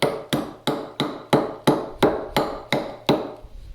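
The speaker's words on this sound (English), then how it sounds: "chiseling over the area that is just over the sawhorses here" A chisel is struck over and over to cut a mortise in a workbench top resting on sawhorses: eight sharp, evenly spaced blows about every half second, each ringing briefly.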